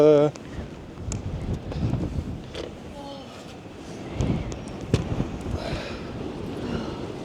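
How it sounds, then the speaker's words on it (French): Outdoor wind buffeting a microphone at a Traxxas Mini Maxx RC car run, a steady low rumble with gusts throughout while a person talks over it. "Le vent me pousse."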